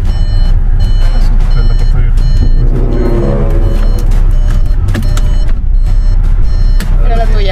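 A car's door-open warning chime repeats steadily and loudly in short regular beeps, with people talking over it throughout.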